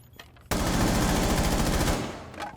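A rapid burst of automatic gunfire in a first-person shooter game, loud and sustained for about a second and a half before tailing off into faint echoing shots.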